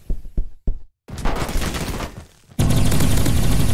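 Shooting in the Roblox video game Energy Assault, a few spaced sharp shots followed by a brief gap, then dense rapid gunfire and a loud, continuous roar of noise.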